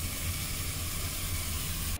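Bluetooth square-wave music Tesla coil running in sparkler mode, its arcs giving off a steady, dense crackling buzz with a low hum underneath, continuous and fairly loud before cutting off abruptly at the end.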